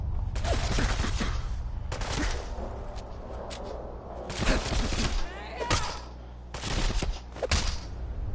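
Bursts of gunfire from the game Fallout 4 crack out in repeated volleys, loud and close, with short gaps between them.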